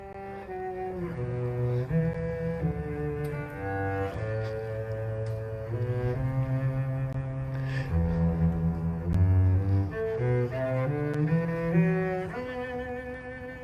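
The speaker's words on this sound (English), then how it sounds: "So that's something like the sound of a cello." A cello plays a slow melodic line of low, warm sustained notes, close and steady, with no voices.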